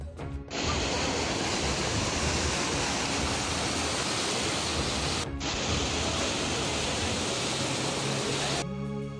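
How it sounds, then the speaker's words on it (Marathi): Monsoon rainwater pours down the stone step path of Raigad fort near the Maha Darwaza bastion, a loud, dense, continuous roar of cascading water with one brief break partway through. "हा पायरी मार्गावरून येणारं पाणी हे पावसाळ्यातला रायगड आपण पाहतोय."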